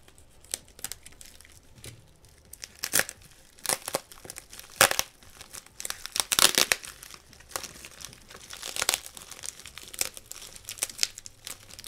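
Cutting into and tearing open a heavily taped mail package: scattered bursts of crinkling, ripping tape and rustling cardboard up close, with quieter handling noises between them.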